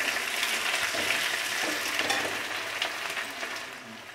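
Onions sizzle steadily in very hot oil in a kadai for mutton curry, with whole bay leaf, dried chilli and garam masala in the pan, giving a continuous close crackling hiss with light stirring throughout.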